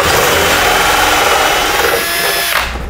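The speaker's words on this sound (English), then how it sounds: "And then you just start to drill." A Ryobi door lock installation kit's hole saw drilling into a wooden door, a loud continuous close power-drill whine for about three seconds before winding down at the end.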